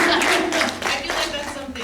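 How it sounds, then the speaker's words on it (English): Brief applause from a small audience at a board of education meeting, a short burst of claps with talking alongside. "I feel like giving that a round of applause."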